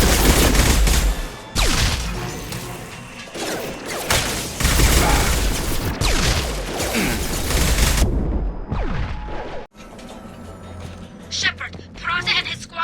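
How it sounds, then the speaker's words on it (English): Shotgun gunfire in Mass Effect 2 during a combat sequence, with loud, repeated blasts and explosions over the first eight seconds and sparser shots afterward, mixed with talk. "Shotgun!"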